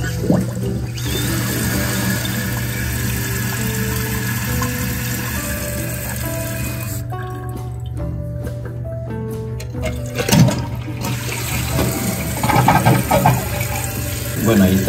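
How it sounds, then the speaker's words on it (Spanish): Toilet tank refilling after a repair once the water supply is turned back on, a continuous rushing, hissing fill with a steady hum, briefly quieter midway before rising again with a few splashy bursts near the end. "Ahora encendemos el agua."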